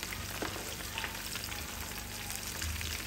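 Prawns deep frying in hot oil over a medium-to-high flame, a steady close crackling sizzle with dense popping throughout and no voices.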